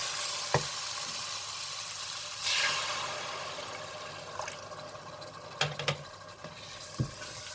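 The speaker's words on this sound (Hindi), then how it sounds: "जब मसाला अच्छा सा भुन जाए तो आप इसमें थोड़ा पानी डालकर मिला लें।" Fried masala of turmeric, cumin and coriander powder sizzles steadily in a pan after water is added, with a burst of hissing and scattered scraping stirs and clinks throughout, no talking.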